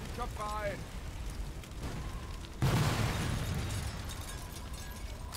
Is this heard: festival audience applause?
no